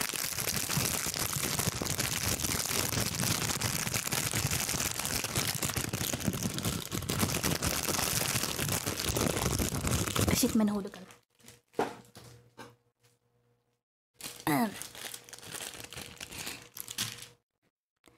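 Crinkling plastic packaging of Mama's Love cotton buds, 200 tips, is torn open up close, a dense steady rustle for about ten seconds, then scattered crackles and short bursts alongside brief speech.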